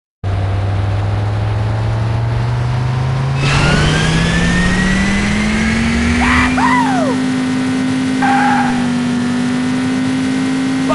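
A car engine in the City Racing 3D racing game revs steadily, its pitch climbing smoothly from a low drone to a higher, sustained whine. Brief electronic game tones sound over the loud, continuous engine.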